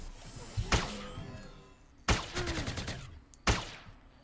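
Gunfire in the Entropia Universe video game comes as three sharp, separated shots or short bursts, the middle one followed by a rapid trailing rattle, all fairly faint.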